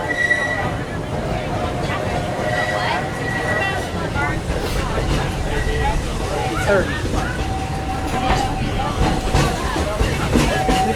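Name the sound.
Walt Disney World Railroad train ride, Magic Kingdom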